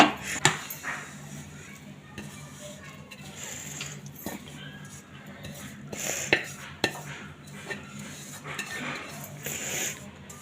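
A sesame and jaggery mixture for tilgul vadi is poured from a pan onto a rolling board and spread out, with scattered metal clinks, clanks and utensil scrapes over quiet background noise.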